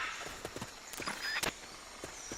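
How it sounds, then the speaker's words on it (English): Footsteps of an enemy soldier in the video game Metal Gear Solid Peace Walker: soft, irregular steps spread across a couple of seconds, faint over a low ambient game background with a brief louder thump midway. "I just heard footsteps."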